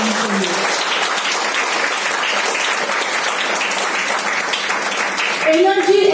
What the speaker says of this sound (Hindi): तो क्राउन एम्बेसडर के लिए तालियां होनी चाहिए।